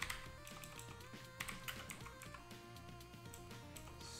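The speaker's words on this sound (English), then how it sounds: "I'm just going to type it." Someone types on a computer keyboard while setting up a Google Coral Dev Board, rapid soft key taps in an irregular run, faint under a steady background hum.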